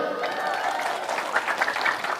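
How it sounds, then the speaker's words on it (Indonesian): An audience at an Indonesian religious talk breaks into applause, a moderate, steady patter of clapping with a voice faintly audible underneath at the start. "Tepuk tangan dulu."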